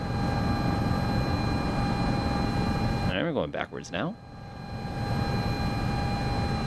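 Sikorsky S-76C helicopter in Microsoft Flight Simulator 2024, a steady engine and rotor drone with high whining tones, briefly covered by someone talking before the hum returns.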